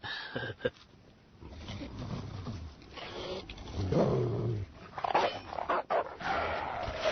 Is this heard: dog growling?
yes